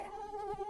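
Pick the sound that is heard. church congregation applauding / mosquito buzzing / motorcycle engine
mosquito buzzing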